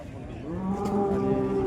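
A cow gives one long, low moo nearby at a Modnimb cattle market, rising in loudness and holding steady to the end.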